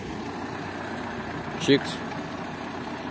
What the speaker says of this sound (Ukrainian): Як бачите, трактор у міжряддя входить нормально, нічого, рядочки не топче.